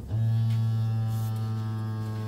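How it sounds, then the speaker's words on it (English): A vacuum sealer switches on and hums steadily while drawing air from a bag of dehydrated cucumbers, a close, even motor drone that holds for about two seconds with no talking. "you can go ahead and vacuum seal."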